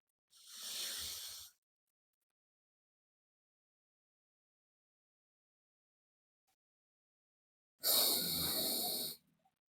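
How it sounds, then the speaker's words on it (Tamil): Deep yoga breaths drawn through the left nostril, two long, loud, airy hissing breaths of about a second each, close to the listener, separated by several seconds of silence. "இடது பக்க நாசி துவாரத்தால் ஒரு ஆழமான மூச்சிடுங்க"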